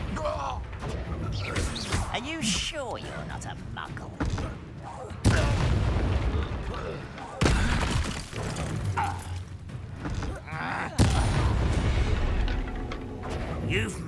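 A Confringo explosive spell in Hogwarts Legacy goes off as several loud booming blasts spaced a few seconds apart, mixed with crackling impacts and combat noise while voices speak between them.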